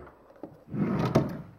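Nearby in a bedroom, a dresser drawer slides open with a soft thunk and a short scraping rumble, ending in a light knock; no one speaks.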